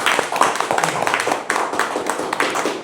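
An audience at a political lecture gathering in Gangwon Province claps. Brief, close, irregular claps patter for a few seconds at moderate loudness.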